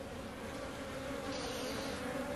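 Honey bees humming steadily at an open hive in a drone-laying colony, a dense, continuous buzz heard close up and fairly quiet, with no voices.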